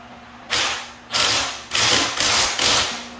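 A hand ratchet tightens a multi-socket tool with five quick bursts of clicking, each about half a second long and evenly spaced, close and crisp with no talk.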